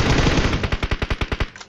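Machine gun firing in a battle royale video game, a fast loud burst of about a dozen evenly spaced shots that trails off into a brief echo, with no talking.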